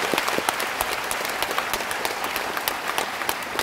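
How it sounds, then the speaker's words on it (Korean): Sustained applause from an audience in a concert hall after a keynote lecture by the former UN Secretary-General at a humanities forum in Andong, with steady dense clapping and no voices. "큰 박수 부탁드리겠습니다"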